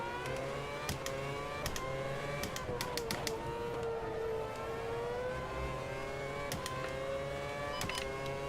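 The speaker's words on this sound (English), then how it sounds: "once again, we hit the rev limiter quite early" Formula 1 race car from 2011 in Automobilista 2 at Italy, its engine droning steadily near the rev limiter with a sustained whining tone and repeated clicking stutters.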